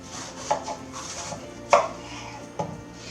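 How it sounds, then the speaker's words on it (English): A knife cuts through a cucumber on a cutting board, giving three sharp, close chopping knocks spaced about a second apart, the middle one loudest, with no talk. "I'm going to cut this cucumber in half."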